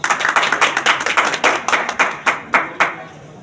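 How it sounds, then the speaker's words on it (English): Applause for a student called to the stage at a school result ceremony: a small group clapping close by in a quick, uneven rhythm that thins out into a few separate claps and stops, with no talking. "Please give them a big round of applause."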